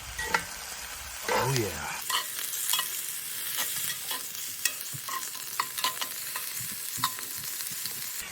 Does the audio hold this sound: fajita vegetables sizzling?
yes